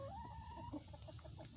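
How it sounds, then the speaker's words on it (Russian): Young hens clucking in a backyard coop, a drawn-out rising call followed by a string of short, quick clucks, close but soft, with no talk over them. "Молоденькая курочка. Курочки."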